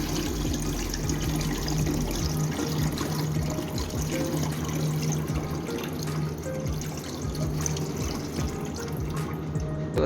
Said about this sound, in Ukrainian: Саме так і виливаємо ось сюди цю воду.